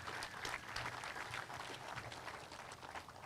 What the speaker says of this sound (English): Let's give another round of applause for all of them.